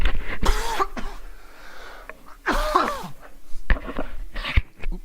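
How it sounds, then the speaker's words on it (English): A person coughs several times in rough, uneven bursts with raspy, wheezy throat sounds between them, close to the microphone. "I had to cough"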